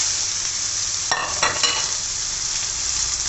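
Food frying in a little oil in a pan, a steady close hiss and sizzle throughout with a few brief stirring scrapes, no talking.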